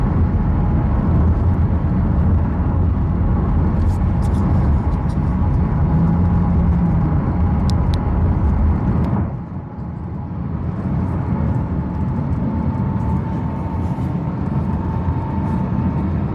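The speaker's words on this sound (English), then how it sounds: "I'll take some of that road noise off for you guys." Steady, loud broadband road rumble from inside a moving car, continuous throughout and dropping noticeably in level about halfway through before holding steady again.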